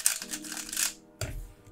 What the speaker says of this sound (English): This is my RS3M.